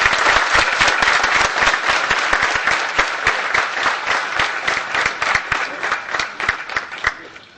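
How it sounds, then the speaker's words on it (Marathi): An audience at a police and citizens' discussion meeting bursts into loud, sustained applause, dense rapid clapping close by that holds for several seconds before tapering slightly at the end. "राजू काची इथे उपस्थित आहे, त्याच्यासाठी प्लीज जरा जोरदार टाळ्या वाजवा"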